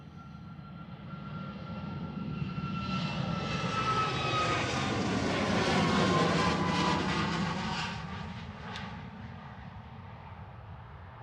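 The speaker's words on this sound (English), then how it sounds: "Sun Express heading out to Antalya, TCSMD operating this flight, 2-year-old 737 MAX 8" SunExpress Boeing 737 MAX 8 jet departing Manchester Airport for Antalya, its engine roar swelling to a loud broad peak mid-clip and then easing off as it passes, with no talk over it.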